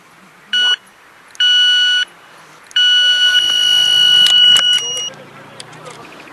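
A bite alarm beeps on a carp fishing rig in three loud electronic tones: a short beep, a longer one, then a long sustained tone, close and clear over a quiet outdoor background.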